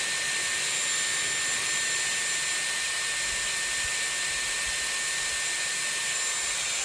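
A Dyson Airwrap hair styler with 30 mm barrels blowing air in a loud, steady, close rushing whoosh that continues unbroken from start to finish, with no talking.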